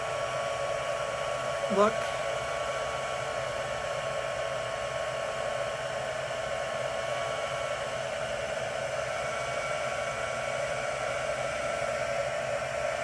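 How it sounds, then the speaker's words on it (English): A heat tool blows steadily to melt gold embossing powder, giving a continuous loud whooshing hum of hot air throughout, with a brief spoken word near the start. "when you heat it with the heat tool, it melts and gives a shiny, more solid"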